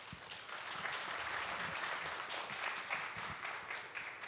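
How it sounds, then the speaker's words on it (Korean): Audience at a cloud technology conference customer panel claps warmly to welcome a company CEO on stage, with a steady, even wash of applause from a seated crowd, fairly soft and distant. "다시 한번 함께 해주신 윤영준 대표님 뜨겁게 박수로 좀 맞이해 주시기 바랍니다."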